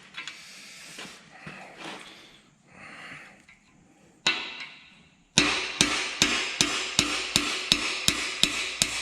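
A hammer drives a tool into a freeze plug on a Ford Mustang GT 4.6 engine block. One sharp strike is followed by a steady series of about nine ringing metallic blows, close and loud.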